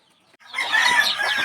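Hens in battery cages clucking and squawking together after a brief quiet start, a busy chorus of many birds close by, fairly loud and continuous.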